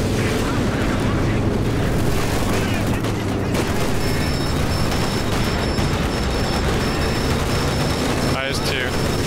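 Artillery barrage explosions in the Company of Heroes 4v4 battle on Red Ball Express, a dense continuous roar of booms and gunfire rumbling throughout, with talk over it.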